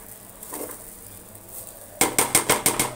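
Basmati rice fried in a pan: a quiet stretch, then a quick, even run of metallic scraping and clinking as a spatula stirs the grains against the pan, close up.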